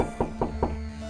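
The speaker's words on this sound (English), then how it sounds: "Can we knock on this door?" Three evenly spaced knocks on a door in the point-and-click video game The Blackwell Legacy, firm and close, over a steady low background hum with no talking.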